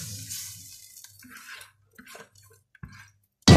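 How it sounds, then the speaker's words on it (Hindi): Water poured into a pot of rice during home cooking, a soft splashing trickle that starts and stops in short bursts, with quiet pauses between pours and a louder close splash at the end. "और ये इस तरह इसमें पानी डालना है"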